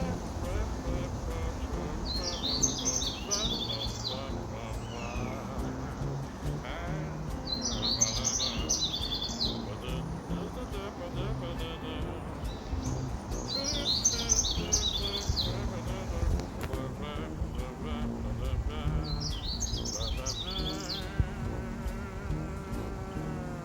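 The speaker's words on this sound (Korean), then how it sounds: "산새들이 노래 불러주니" Wild mountain birds sing in repeated bright bursts of twittering song every few seconds on a forest trail after rain, set against a steady hum of insects and outdoor ambience.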